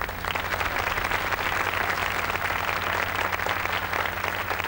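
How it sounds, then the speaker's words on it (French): A French television studio audience claps during a New Year's Day 1987 carnival broadcast, sustained dense applause at a steady level throughout with a low hum beneath. "Je voudrais qu'on les applaudisse, ces gens-là d'abord."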